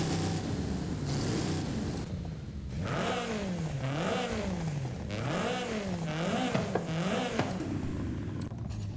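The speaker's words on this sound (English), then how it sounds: "it has a legendary engine in it. Diesel engine." A diesel car engine in a video game revs up and down repeatedly in rising and falling sweeps, a loud, steady motor drone with no one speaking.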